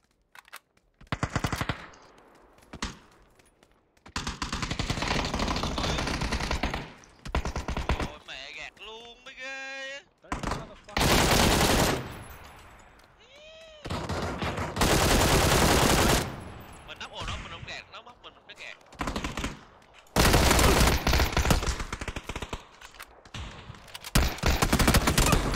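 Video game gunfire comes in repeated bursts of rapid automatic shots, loud and close, separated by short quiet gaps, with some whooshing effects between volleys.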